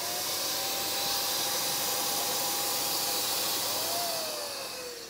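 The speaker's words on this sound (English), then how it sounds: "Here we've got the chocolate in a paint gun" A continuous loud hissing spray of chocolate from a paint gun, steady for several seconds before easing slightly at the end.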